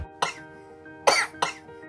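A voice imitates a small child's cough, giving three short, harsh coughs close up with brief pauses between them, and no one speaking.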